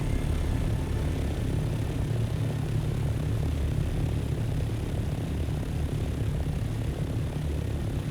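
A gliding ornithopter in Dune Awakening drones steadily with a low, airplane-like engine rumble and rushing wind, constant and unvarying, loud and close with no other sounds.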